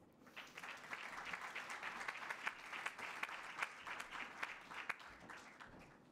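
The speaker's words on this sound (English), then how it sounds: "Please give him a warm welcome and a big applause." Audience applause greets the chair of the UNFCCC Subsidiary Body for Implementation at an intergenerational climate event, a steady wash of clapping that holds for several seconds at moderate distance, with no voices over it.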